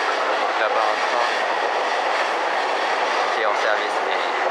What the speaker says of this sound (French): Là-bas un train